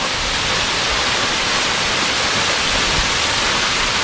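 Uçansu waterfall in Turkey: a dense, continuous roar of falling water, loud and unbroken throughout, with no voices.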